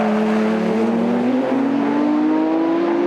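Two Japanese race cars, including a Nismo GT-R, battle head-to-head on track, their engines wailing loudly with a steadily rising pitch as they accelerate together close by.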